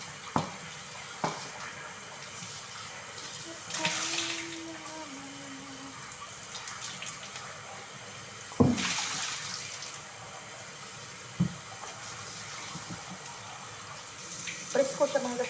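Water from a tap runs over a freshly cleaned whole fish being rinsed before it is seasoned and grilled, giving brief splashy bursts of flow with pauses between rinses and a few clunks and knocks.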